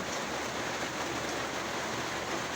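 Steady heavy rain pouring down nonstop, a dense even hiss across the whole stretch with no gaps, moderately loud and with no voices over it.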